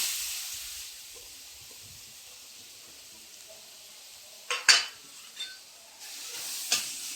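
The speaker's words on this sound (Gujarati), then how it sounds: "ગાજરને પહેલાં શેકી લેવાનું છે ઘીમાં" Carrots roasting in ghee for a carrot kheer, a soft steady sizzle and hiss under a few louder stirring scrapes near the end, close and fairly quiet.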